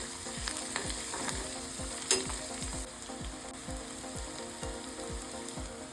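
Chopped onions fry in oil in a wok, a steady loud sizzle broken by regular rhythmic scrapes of a spatula stirring through the pan, close and continuous with no talking.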